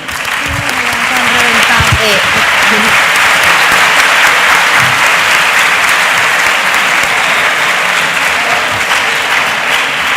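Sustained audience applause fills a school conference hall on the theme of improving school coexistence, dense and loud throughout, with a few faint voices underneath.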